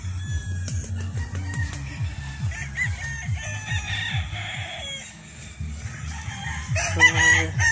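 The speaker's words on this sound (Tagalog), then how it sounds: "Magaganda yung manok ni Sir Jason." Roosters at a gamefarm crow repeatedly from near and farther off, mixed with clucking and other fowl calls over a steady low background hum.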